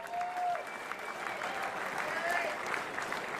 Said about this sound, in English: Ladies and gentlemen, Melbourne, give Mr. Nugget a big round of applause.